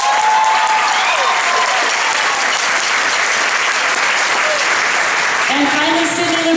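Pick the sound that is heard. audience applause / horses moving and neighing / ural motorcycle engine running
audience applause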